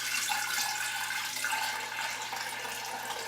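Homemade kombucha pours steadily into a jar in a continuous splashing stream that lasts a few seconds and sounds close, with no voices.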